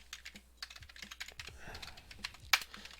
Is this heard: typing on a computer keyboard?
yes